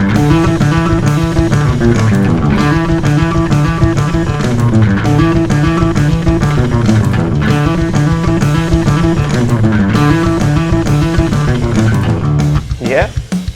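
A bass guitar drives a fast, shredding bass line of rapid, continuous notes, loud and busy for the whole stretch before a brief break near the end.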